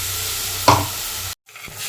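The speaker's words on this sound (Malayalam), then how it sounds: "തക്കാളി പേസ്റ്റ് ചേർത്ത് കൊടുക്കുകയാണ്" Blended tomato paste goes into a sizzling Kerala-style fish head curry and is stirred, giving a loud, continuous frying hiss with one brief scraping stroke before a sudden cut and quieter sizzle.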